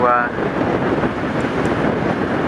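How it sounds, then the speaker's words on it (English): Wind buffets the microphone on a boat pitching through a bumpy riptide where the Saguenay meets the St. Lawrence, a continuous loud rushing roar with a voice briefly audible at the start. "the wind is blowing due west almost right on the nose"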